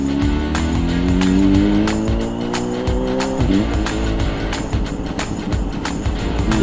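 A big bike motorcycle's engine revs on a road ride at night near Barotac Viejo, its pitch climbing steadily before a gear change, loud and close with wind rush.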